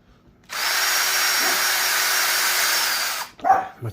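A close power drill runs at a steady high whine for around three seconds, working on an Arrma Big Rock RC truck, then cuts off as a dog lets out a short bark.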